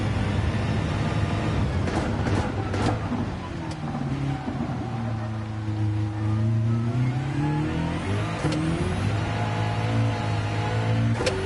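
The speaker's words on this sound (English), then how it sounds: "You can just hear the car actually lose traction as we're going around that corner" A video game racing car engine roars steadily, its pitch sliding up and down as it takes a corner, with a brief high squeal as the tires lose traction.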